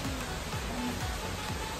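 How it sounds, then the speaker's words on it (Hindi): Heavy rain pours steadily during a family trip to Jim Corbett, a dense, even hiss of falling water with no voices over it. "कितनी बारिश हो रही है।"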